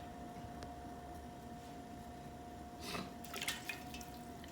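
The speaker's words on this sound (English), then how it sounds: "So put a little water on there" Water poured onto wet clay on a spinning potter's wheel while a coffee mug is thrown, heard as a soft, brief splash and drip near the end over a steady low wheel hum.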